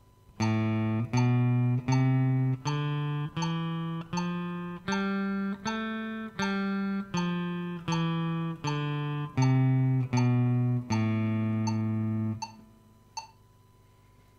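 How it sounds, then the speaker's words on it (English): A guitar plays a slow ascending A natural minor scale, one down-picked note per beat, each ringing clearly before the next, ending on a held note, no voices. "And that is your A natural minor."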